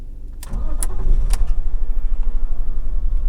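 BMW E46 with an engine misfire cranking and starting, a brief starter whirr with a clatter, then a steady rough idle rumble that continues, close and fairly loud with no talk.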